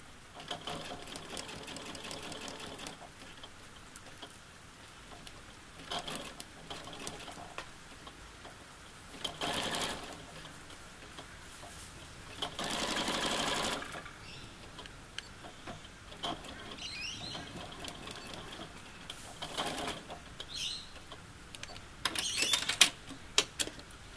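A sewing machine stitches the inside leg seam of a pair of shorts, a steady mechanical whirring run interrupted by short louder bursts and pauses, with faint ticking as the fabric is moved along.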